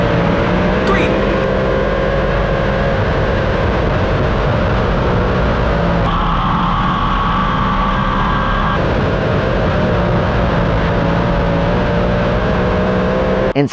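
Sprint cars racing on a Texas dirt track, a loud, continuous engine roar with sustained high revving and a shift in pitch midway, heard close from inside the action.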